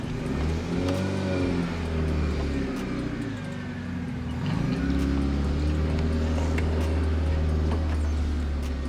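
A four-wheel-drive utility vehicle's engine starting and being driven, a close, loud motor rumble that surges and revs, dips briefly, then climbs again, with no talking.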